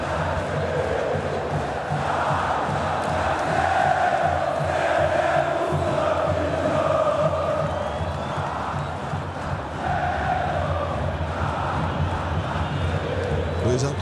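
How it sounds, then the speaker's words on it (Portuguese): Cruzeiro fans chant steadily throughout a stadium during a Brasileirão match against Flamengo, a thick, sustained wall of crowd voices with a commentator talking over it. "É o canto da torcida da Raposa."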